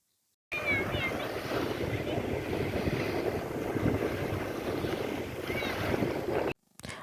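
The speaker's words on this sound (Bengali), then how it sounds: "আপনারা শুনতে পাচ্ছেন জলের শব্দ" Sea water and waves wash steadily at Frazerganj beach, a continuous broadband rush mixed with wind buffeting on the microphone, cutting off abruptly near the end.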